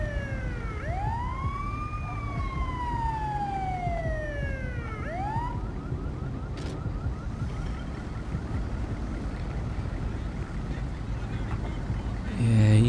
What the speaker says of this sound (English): Ambulance. Assistance required in Davis.